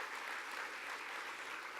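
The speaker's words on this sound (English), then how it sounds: "can we just give another round of applause before we have the benediction?" An audience at a city neighborhood meeting gives a round of applause, a steady dense wash of clapping that is fairly faint, with no voices over it.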